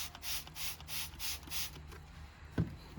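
Five quick hissing bursts from a spray bottle spraying water onto a blue shop towel in a steady rhythm, followed by quieter handling noise and a soft thump.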